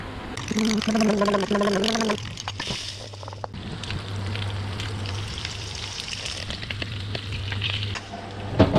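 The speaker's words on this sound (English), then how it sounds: "You want to make sure the shrimp is fried all throughout." Shrimp fry in about three tablespoons of hot oil for a noodle dish with vegetables, giving a close, even crackling sizzle. A voice is heard briefly at the start before the frying sound continues on its own.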